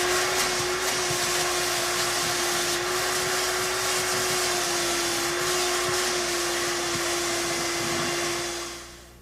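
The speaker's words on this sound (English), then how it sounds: "vacuum the buffing dust from the interior of the tire" A vacuum cleaner draws buffing dust out of the inside of a tire during a tire patch repair. It runs as a steady, loud, close whine and airflow roar, then winds down near the end.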